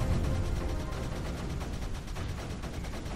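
Mortar fire in the strategy video game Creeper World 3, a dense continuous barrage of rapid crackling bursts and thumps, steady and loud throughout with no talking.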